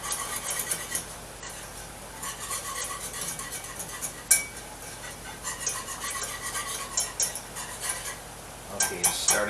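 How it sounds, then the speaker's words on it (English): A whisk scrapes and clinks steadily around a pot on a stove as a mixture for apple pie heats toward a boil, with irregular metallic taps throughout and a brief faint voice. "Keep whisking it."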